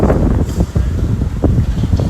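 Strong gust-front winds of a severe thunderstorm approaching New York City buffet the microphone with loud, continuous rumbling gusts that rise and fall throughout.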